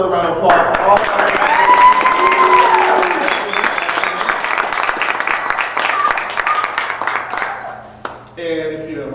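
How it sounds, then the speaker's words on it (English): An audience at a spoken word classroom performance claps and cheers in a dense burst that slowly thins out, then a voice speaks near the end. "another round of applause for all of our"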